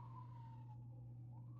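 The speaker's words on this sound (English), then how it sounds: "I don't know if you can hear those sirens" A faint emergency siren wails far off and slowly sweeps in pitch above a steady low hum, heard alone.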